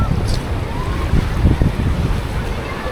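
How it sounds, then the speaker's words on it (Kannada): Sea waves roll and wash steadily onto the beach at Dhanushkodi, a constant broad surf rush with buffeting wind noise on the microphone throughout. "ಅಲ್ಲೆಲ್ಲ ನೋಡಿ ಸಿಕ್ಕಾಪಟ್ಟೆ ಅಲೆ ಇದೆ ಅಲ್ಲಿ."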